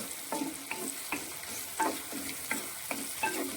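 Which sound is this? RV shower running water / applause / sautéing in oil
sautéing in oil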